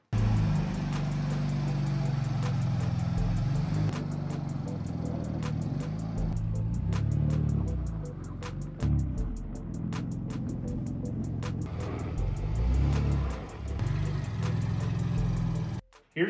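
BMW M4 being driven and turned around during a vinyl wrap job, a low engine hum and tyre rumble running steadily throughout with repeated clicking ticks, fairly close and without talk.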